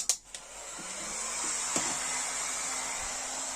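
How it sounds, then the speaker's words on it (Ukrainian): A few clicks and a low hum, then a 1700 W hair dryer, powered from a 3000 W hybrid inverter, whirs up and runs steadily with a high-pitched whine, close by. "Зараз включаємо ось такий фен на кіло 700"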